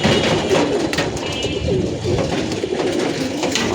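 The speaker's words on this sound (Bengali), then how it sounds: "যে কবুতরগুলোও বাসার উপরে চলে আসছে" Flying pigeons returning to a rooftop loft and cooing, a loud dense flock of overlapping coos with continuous outdoor bustle.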